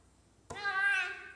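A single cat meows once, a short rising-and-falling cry that starts abruptly after a quiet moment and fades away within about a second.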